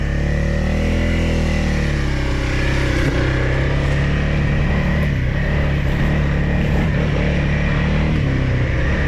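A Honda CRF300L dirt bike rides along a muddy trail, its engine droning loud and steady throughout with rough, continuous rumble and no speech.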